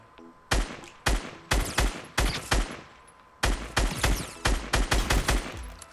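Gunfire in the video game Fortnite: a string of sharp, loud shots in two bursts, each crack ringing out briefly before the next, with a short pause in the middle and no talk.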